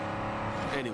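A fast car's engine in State of Decay 2 drones steadily with a humming, revving tone for about a second, with someone talking over it.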